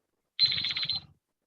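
A single electronic quiz timer buzzer sounds once, a steady bright tone lasting under a second, marking the end of a 15-second answer window at a live quiz competition, with no talk over it.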